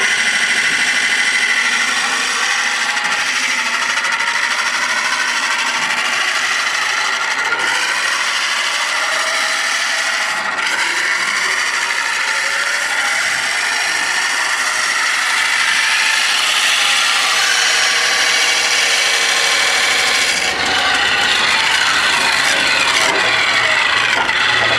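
A wood lathe turning a long, thin spindle gives a continuous close scraping and whirring of the tool on the spinning wood, steady and loud with slight shifts in tone.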